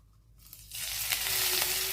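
Ginger, garlic and green chili paste drops into hot oil and ghee, starting a loud, bright, steady sizzle that swells within a second and keeps crackling close up.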